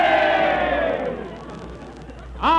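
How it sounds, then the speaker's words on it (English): A cartoon football crowd yells and cheers together in a loud, sustained roar that fades over the first second. A fresh burst of shouting rises near the end. "The crowd is getting restless."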